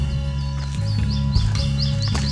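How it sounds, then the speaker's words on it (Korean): Bird calls and chirps ring out along a mountain trail near the summit of Bongmisan, repeated short bright notes over a steady hum of background noise, with no talking. "새소리"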